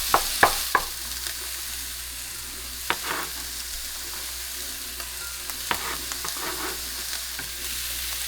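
Italian sausage sizzles steadily in a stovetop pan, broken by a few sharp scrapes and clacks of a spoon stirring the meat, with no voices.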